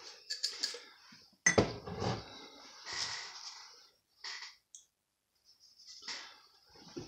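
XXL-cut pipe tobacco is dropped into a small dish, giving light clinks and dry rustles in short scattered bursts separated by near silence.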